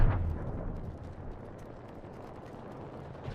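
Frag and thermite grenade blast in the Apex Legends video game, a loud low boom at the start that fades into a long rumbling decay, with no talking over it.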